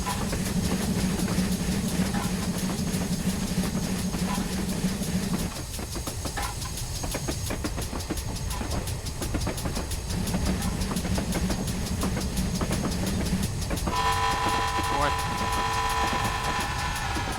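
A GWR King steam locomotive in Train Simulator 2022 drones steadily while climbing a hill, with rhythmic clattering and a low laboring hum, shifting tone partway through, while a voice talks over it.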